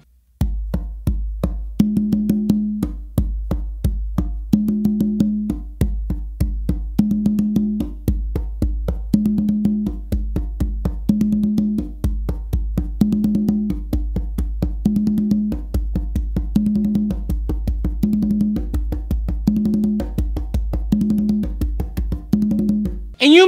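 Steady, repetitive hand drumming on a single conga, a low pulsing bass tone with regular higher slaps in an even rhythm, played alone and close.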